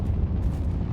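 A deep, rumbling explosion from a ship ramming a Polaris warship in a space combat game, a dense low roar filling the whole moment without a break.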